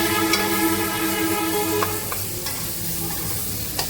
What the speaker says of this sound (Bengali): নারকেল কোড়াটা দিয়েও আমি এটাকে ভালো করে কষবো।